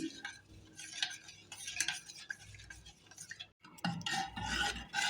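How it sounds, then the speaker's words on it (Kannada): A spoon scrapes and stirs through thick jowar porridge with crushed garlic, coriander leaves and salt, giving close, repeated rasping strokes against the pot with a short pause partway through. "ಹಾಕಿ ಚೆನ್ನಾಗಿ ಮಿಕ್ಸ್ ಮಾಡ್ತಾ ಇದ್ದೀನಿ"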